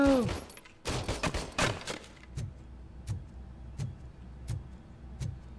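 Gunfire in the game RoboCop Rogue City: a dense cluster of loud shots early on, then single sharp shots spaced about every three-quarters of a second over a low background rumble.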